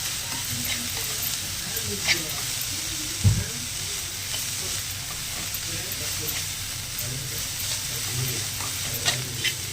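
Food sautés in a pan for a Tamil paniyaram meal, a continuous close sizzle and hiss with occasional stirring scrapes and a soft thump.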